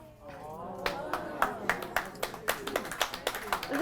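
An audience claps during a quilting demonstration, a quick run of sharp hand claps that builds over a few seconds, with a voice speaking over it.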